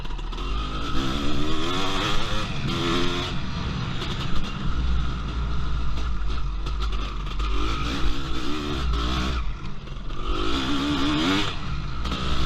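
A 2004-frame Honda CR500 two-stroke dirt bike with a rebuilt 500cc engine screams and revs continuously on an empty track, rising and falling as the rider works through the gears, loud and steady throughout.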